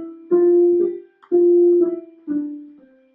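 A piano five-finger exercise played from C up to G and back down, heard as a few clear single notes with sustained decays, moderately loud and alone.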